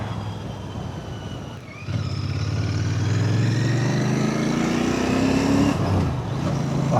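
A Royal Enfield Bear 650 motorcycle engine runs close by, a steady low rumble that rises in pitch as the revs climb under acceleration, then drops back as it eases off, with no talk over it.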